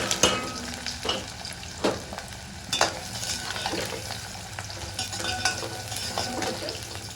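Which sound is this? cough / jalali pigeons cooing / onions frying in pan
onions frying in pan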